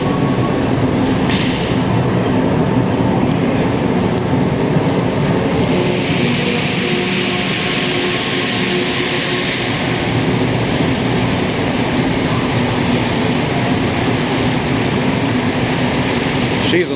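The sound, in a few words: metro train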